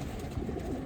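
Soft, low pigeon cooing close by, a brief murmuring call over quiet background noise.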